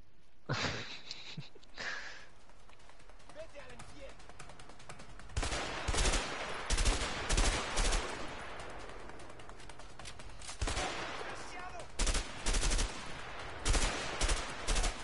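Gunfire in the video game A Way Out: scattered bursts of shots in quick clusters, some rapid like automatic fire, with faint breathing and gasps between.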